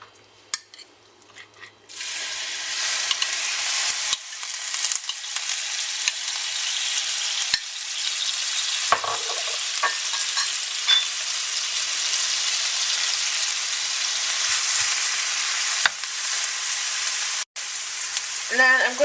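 Onions frying in hot oil in a pan, a dense continuous sizzle lasting nearly twenty seconds with a few brief knocks and scrapes of stirring, and faint background sound right at the start.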